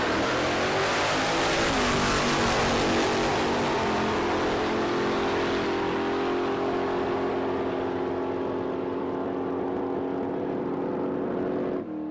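A drag racing car's engine at a Palmyra Dragway test day holds a loud, sustained, buzzing high-rev note against the rev limiter for many seconds, then drops off abruptly at the end.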